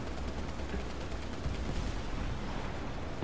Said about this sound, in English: I can shoot my machine gun.